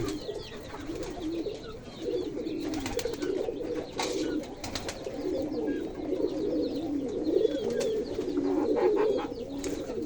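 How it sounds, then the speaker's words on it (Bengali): Domestic pigeons coo steadily in a backyard coop kept alongside chickens, a dense overlapping chorus of soft, rolling calls that runs throughout, fairly close, with a few brief clicks and flutters and no talking. "এই হলো কবুতর।"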